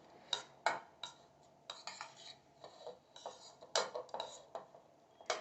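Egg and pepper whisked in a bowl with a utensil, a quick series of light, close clinks and scrapes in an irregular rhythm, fairly faint.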